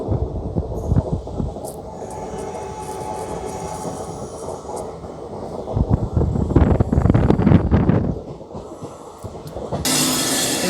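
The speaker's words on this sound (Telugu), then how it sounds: "ఇది కాచిగూడకి వెళ్ళిపోతుంది ప్యాసింజర్ ట్రైన్ టువర్డ్స్ కాచిగూడకి." A passenger train bound for Kacheguda rolls along nearby, a loud rhythmic throbbing rumble with clanks and screeching swells midway, then a sudden burst of hissing noise near the end.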